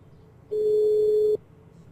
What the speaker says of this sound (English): my phone is ringing right now.